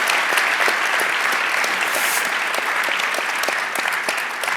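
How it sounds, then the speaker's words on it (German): At a university evening lecture event in Bonn on dreams and sleep, the audience applauds Dr. Michael Sommerauer with loud, dense clapping, with a few sharper individual claps standing out. "Einen großen Applaus bitte für Dr."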